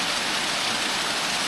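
Steady, dense rushing of the Folly Dolly waterfall, heard close up as continuous broadband white-noise roar with no pauses.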